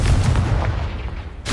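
Confringo explosive spell cast in a Hogwarts video game, heard as a loud, dense booming blast with rumbling low end that fills the short moment, followed by a fresh burst at the very end.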